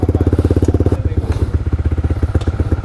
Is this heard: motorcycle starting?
yes